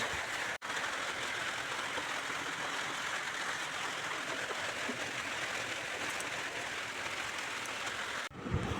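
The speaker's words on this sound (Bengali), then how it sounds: "টিপ টিপ টিপ টিপ করে বৃষ্টি পড়ছে" Steady, dense hiss of light rain falling without a break, an even soft patter filling the background with no voices.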